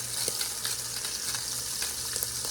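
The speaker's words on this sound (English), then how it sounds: "I have 2 pounds that we're going to be browning" Two pounds of seasoned beef browning in a hot pan for birria tacos, a steady close sizzle and crackle of frying meat holding at an even level throughout, with no voices over it.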